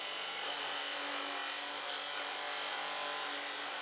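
Hand saw cutting through a wooden trim piece, a steady rasping scrape that runs without a break, close and fairly loud.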